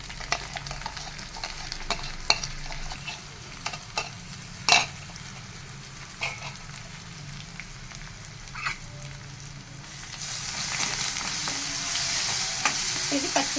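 Green chilli paste, ginger and turmeric stirred and frying in a pan, a steady sizzle with scattered spoon scrapes and clinks, the frying hiss growing louder toward the end.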